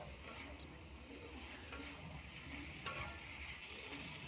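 Fried snake gourd and potato being stirred into a spice masala in a pan, giving a faint steady sizzle with soft scraping, one small clink partway through.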